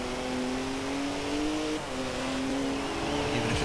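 A sports car engine in the Forza Horizon 4 racing game drones and revs steadily, rising and dipping in pitch with a brief tire squeal near the end, loud and close with no talk.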